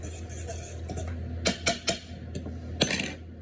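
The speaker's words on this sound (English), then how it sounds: "I'm going to stir it up first to make sure everything is all stirred in" A spoon stirs an oil infusion in a pan, producing a quick run of three or four light metallic clinks. A couple more taps follow over a low steady background.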